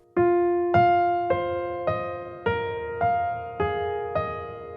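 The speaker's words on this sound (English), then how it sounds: "we'll first simplify it and just play 1 note" Piano plays a simplified single-note melody, eight sustained notes struck one at a time at a steady, gentle pace, each ringing and decaying into the next, close and clear with no voices.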